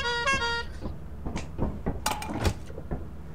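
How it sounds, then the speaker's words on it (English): A vehicle horn in the video game Lethal Company blares once in a short sustained toot at the start, followed by clattering thumps and scattered game noises. "Honk one more time."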